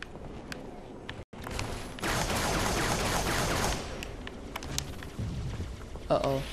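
Sustained automatic machine gun fire from a heavy weapon in a multiplayer shooter game, a dense continuous rattle lasting several seconds after a brief cutout, with a voice talking over it.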